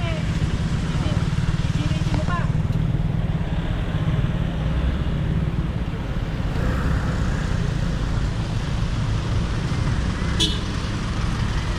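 Motorcycles and a van moving along a busy road, a steady broadband rumble of engines and tires with a brief horn toot, heard close under ongoing talk.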